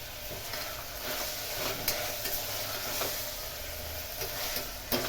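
Onions or aromatics sizzle in oil inside a pressure cooker while a spoon stirs and scrapes, giving a steady close frying hiss with occasional light clinks against the metal.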